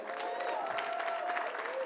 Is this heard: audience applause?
yes